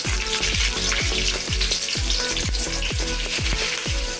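Onions frying in hot oil for bitter gourd curry, a loud continuous close sizzle with regular dull knocks about twice a second, like a spatula working the pan, and no talking.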